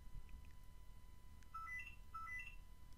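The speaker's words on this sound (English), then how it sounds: "And my phone's ringing, it's perfect timing." A phone rings faintly in the background with a few short electronic melodic beeps, alone against quiet room noise and no talk.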